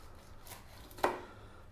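A knife slices into a rested bone-in ribeye steak, a single short, soft cut heard up close against a quiet kitchen background.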